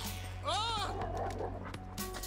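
A dog barks and yips in the video game Grand Theft Auto 5, with one loud, close, drawn-out bark followed by fainter yelps and whimpers over a low background hum.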